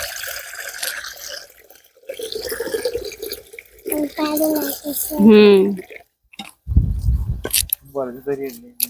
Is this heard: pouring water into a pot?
yes